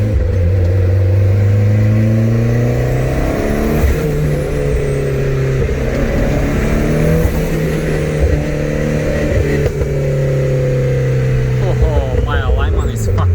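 A Mitsubishi Eclipse GSX drives and accelerates, its engine note climbing and dropping through repeated rev sweeps with loud road noise, while someone talks over it.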